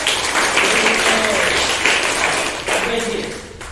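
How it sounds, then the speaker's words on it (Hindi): Classroom applause during an 8th-standard Hindi lesson, clapping for a student who read words correctly: a steady, dense wash of many hands filling the whole stretch, easing slightly near the end. "सही पढ़ा है, तो इसके लिए तालियां हो जाए।"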